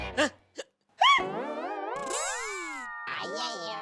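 Repeated hiccups from a man trying to stop them, short sharp catches followed by a drawn-out strained vocal sound, with speech around them.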